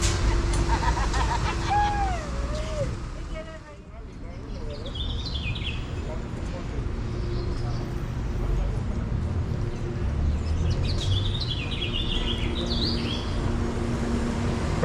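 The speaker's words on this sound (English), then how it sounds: "Birds are chirping this morning." Birds chirp and tweet in short bursts on a morning street in Mexico City, moderately distant, over a steady city rumble with a person speaking and passing traffic.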